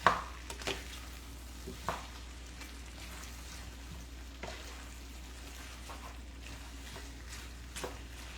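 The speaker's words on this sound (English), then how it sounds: "we're going to add our shrimp to our pasta. And we're going to stir this in." Shrimp stirred into a creamy coconut pasta gives soft, faint scraping and gentle wet sizzling, with a few sharper utensil clicks against the pan, and no talk.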